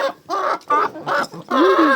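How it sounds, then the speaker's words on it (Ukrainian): Chickens clucking close by in several short bursts of hen calls, loud and clear, with no talking. "Тут у нас є курочки"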